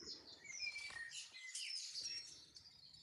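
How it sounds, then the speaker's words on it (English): Birds chirp outdoors in a steady run of high, overlapping tweets and calls that carry on for about three seconds with no talking. "Who has all the birds?"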